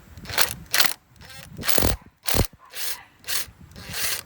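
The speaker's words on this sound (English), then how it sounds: "So just take that 10 millimeter out on each one, like I just did right now" Socket wrench turning a 10 mm coil pack bolt on an Infiniti G35 engine, a series of short, close metallic ratcheting clicks in uneven bursts, with brief quiet gaps between strokes and no talk.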